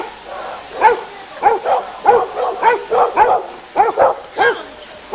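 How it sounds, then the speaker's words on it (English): A guard dog next door in Bruton, Somerset barks repeatedly at someone passing the house, about a dozen sharp barks in an uneven rhythm, close and loud. "Next door I've got a guard dog, so each time you walk past the house,"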